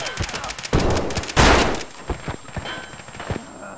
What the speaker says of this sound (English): I shot him in the fucking head 3 times